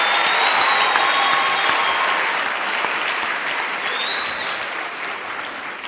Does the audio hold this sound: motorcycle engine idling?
no